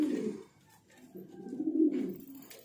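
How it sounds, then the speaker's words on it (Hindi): Flying pigeons in Peshawar, Pakistan give low, soft coos in two short stretches, close by and fairly quiet, with no talking. "ये कबूतर है जो मैं उड़ा रहा हूँ"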